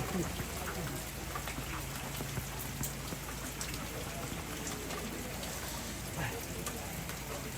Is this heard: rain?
yes